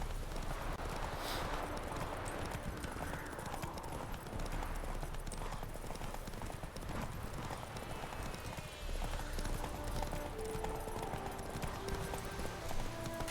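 Roach, the horse in The Witcher 3 video game, gallops with rapid rhythmic hoof clip-clops over a busy game soundscape, briefly broken by a neigh.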